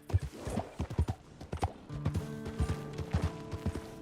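A horse in the video game Red Dead Redemption 2 clip-clops along at a steady walking rhythm, hoofbeats close and distinct, with a low tonal drone and faint ambient noise underneath and no voices.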